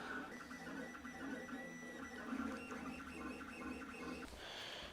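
A 3D printer producing parts for a custom PC case, its stepper motors whining in shifting tones with rhythmic buzzing moves, fairly quiet and close, ending in a brief rougher burst.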